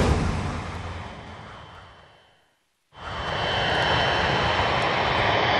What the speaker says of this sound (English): Flight 811 now began its final approach to Honolulu Airport